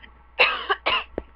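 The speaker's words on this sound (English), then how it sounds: "I'm going to apologize now if I cough at all." Someone who is sick coughs two or three times in quick succession, each cough rough and close. A short throat-clearing catch follows, with no talk.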